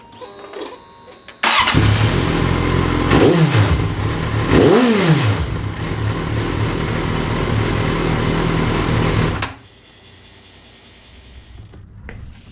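A Suzuki GSX650F motorcycle engine, running after a fuel pump cleaning, starts with a burst, idles steadily with two quick revs early on, then cuts off, loud and close with no talk.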